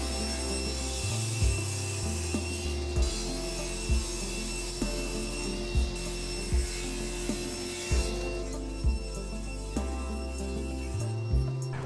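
A saw trims wooden boards for a cutting board, giving a steady grinding, rasping drone broken by regular low thumps and knocks as it works through the wood.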